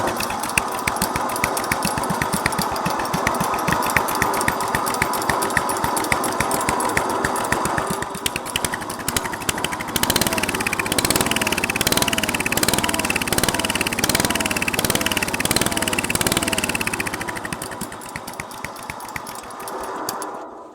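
A restored 1963 Bolens Husky 600 lawn tractor engine cranks and fires, settling into a loud, rapid, rattling idle, then the note shifts as the throttle changes, close up with no talk.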